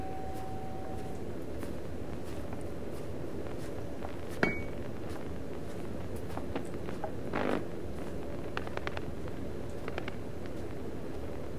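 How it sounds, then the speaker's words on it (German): In a train simulator video game, a hammer taps train brakes: sparse metallic taps ring out against a low steady rumble, one sharp clink standing out, followed by a few lighter knocks and scrapes. "Und die Bremsen prüft mit dem Hammer, ob die Bremsschuhe auch alle angezogen sind."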